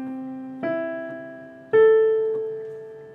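Ukulele in standard high G tuning, single strings plucked one after another, with three clear ringing notes that each sustain and fade alone.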